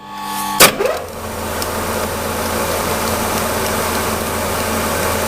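A lathe bores a 25 mm diameter step, starting with a sharp knock as the cut engages, then a steady machining drone with a low motor hum underneath.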